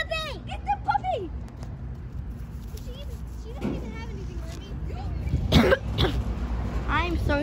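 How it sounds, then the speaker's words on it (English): A sick child coughs several times in short harsh bursts with some throat clearing, close to the microphone, between stretches of excited speech. "I'm sorry, I'm coughing. I was sick."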